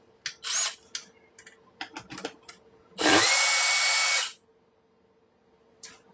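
A handheld power tool removes a part from a home solar setup, giving a few short bursts and then a sustained whirring run of about a second, with clicks and handling knocks in between.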